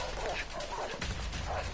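Rottweilers barking in the video game A Way Out, a dense burst of repeated barks and yelps mixed under loud game noise and someone shouting.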